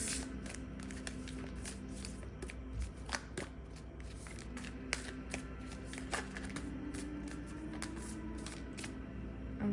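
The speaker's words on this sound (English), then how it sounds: "This is why I love shuffling on camera" Tarot cards shuffled by hand, a steady run of crisp riffling and slapping flurries close to the microphone, repeating throughout with a faint background hum and no talk.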